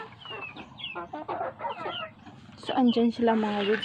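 Chickens cluck and call close by while someone talks over them in Tagalog as they are fed, with louder squawks near the end.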